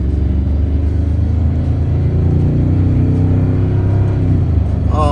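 A Toyota Tundra pickup with bigger tires pulls out of a driveway, its engine giving a loud, close, low rumble that builds steadily as it accelerates, with a brief higher whine near the end.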